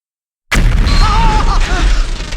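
Firecrackers bursting on a Kerala road trip, a sudden loud bang that cuts in from silence and rings on with sharp crackling for about two seconds, with a voice talking faintly underneath.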